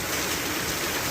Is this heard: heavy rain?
yes